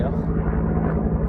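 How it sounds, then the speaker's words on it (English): A helicopter flies overhead outdoors, a steady, loud rumbling drone that holds without break across the short moment. "There's a helicopter overhead."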